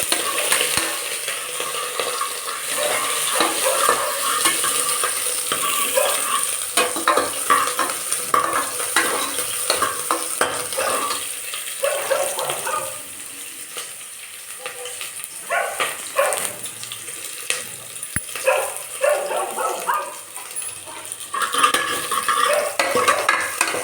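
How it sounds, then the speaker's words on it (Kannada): Chopped onions fry and get stirred in a pan for a Kannada amaranth-stem sambar, with a steady sizzle running throughout and a frequent scrape and clink of the spoon against the pan. No voices. "ಆ ಈರುಳ್ಳಿನ ಸೇರಿಸ್ತಾ ಇದ್ದೀನಿ ಅದು ಚೆನ್ನಾಗಿ ಬೇರೆ ಬ್ರೌನ್ ಕಲರು ಫ್ರೈ ಮಾಡಿಬಿಟ್ಟು"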